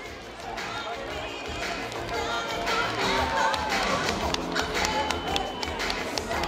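Crowd at a marathon finish line clapping and cheering for arriving runners, a steady wash of applause and chatter that swells slightly midway, heard from within the spectators.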